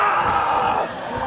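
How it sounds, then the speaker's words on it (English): A crowd at an inclusive indie wrestling show yells and cheers to rally a wrestler, a loud, dense roar of voices that dips briefly near the end of the short burst. "This crowd is trying to pump up Erica"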